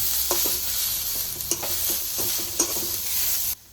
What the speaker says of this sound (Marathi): आता हलवून मी गॅस बंद करून घेते